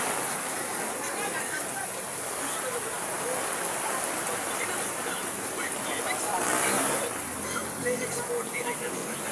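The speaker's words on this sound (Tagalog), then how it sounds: "Ang lakas ng ulan." Heavy rain pours steadily in a dense, even hiss during a storm with strong wind, unbroken for nine seconds, with faint voices talking beneath the downpour.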